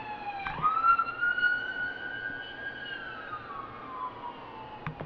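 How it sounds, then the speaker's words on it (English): An emergency vehicle siren wails steadily as it passes, rising and then slowly falling in pitch over several seconds, moderately distant with faint background noise and no talking. "I'm going to wait till that siren goes by."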